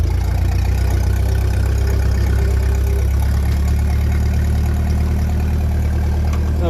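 A 1957 Ferguson 35 tractor with a TVO engine idles close by, giving a loud, steady low rumble with an even, unbroken rhythm throughout.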